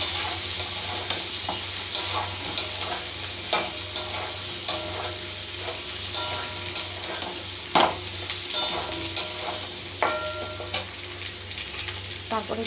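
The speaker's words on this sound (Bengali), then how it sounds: "রসুনটাকে আগে ভেজে নেবো, নাহলে গন্ধ বেরোবে" Garlic paste frying in oil with half-fried potatoes in a pan, a constant sizzle punctuated by regular sharp spatula scrapes and knocks about every second, close and loud, with a low hum beneath and no talk.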